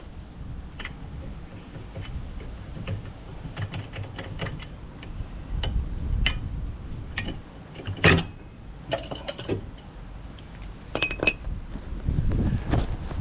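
Metal sockets clink and knock in scattered, quiet bursts while someone digs through them during a Nissan 370Z wheel bearing job. The light taps and clatters come irregularly, with soft shuffling in between.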